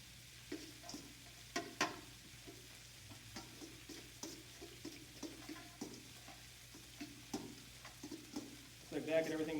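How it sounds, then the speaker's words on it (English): Salad of roasted red peppers, blue cheese crumbles and walnuts tossed in a bowl, giving soft, irregular clicks and rustles close by at a quiet level, with a brief clatter near the end. "I'm going to give them a very nice toss here."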